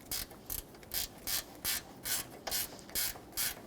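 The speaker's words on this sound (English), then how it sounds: "I'm going to get a 10mm ratchet wrench and really seat that" A 10mm ratchet wrench tightens a bolt on a Nissan Frontier AC condenser, close-up bursts of rapid clicking repeated about ten times in a steady back-and-forth rhythm, with no talking.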